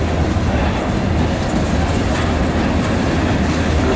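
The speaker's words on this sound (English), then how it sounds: "It looks like there's another engine pushing the train and everything, because this train is way huge." A very long train rolls past with a second engine pushing from the rear, at the site of an old station; a loud, steady rumble and clatter of wheels fills the whole stretch without letting up.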